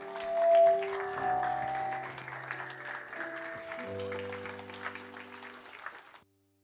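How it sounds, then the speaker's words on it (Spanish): A church congregation gives a strong round of applause during a praise and worship service, steady clapping over sustained organ or keyboard chords that fades out and stops. "¿Por qué no le da un fuerte aplauso al Señor?"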